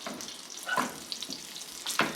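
A breaded grouper fillet cooks in hot oil, giving a soft, continuous sizzle with a few brief louder pops and scrapes and no voices.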